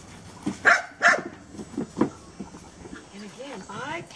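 Dogs bark a few times in sharp bursts, with whining, yelping sounds and talk mixed in nearby.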